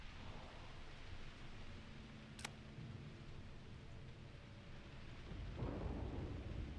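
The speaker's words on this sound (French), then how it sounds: "Puis là, il y a l'orage et tout, c'est parfait, quoi." Thunderstorm ambience inside the Starfield video game at an abandoned facility on the edge of the settled systems, with a steady wash of rain and low rumbling thunder that swells louder near the end, plus a brief sharp click partway through.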